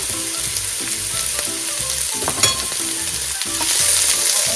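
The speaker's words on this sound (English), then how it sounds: "I have 2 tablespoons of oil in a pan, and then I'm going to add some chopped onions" Two medium chopped onions sizzling in two tablespoons of oil in a pan, a steady loud frying hiss with occasional stirring scrapes, no voices.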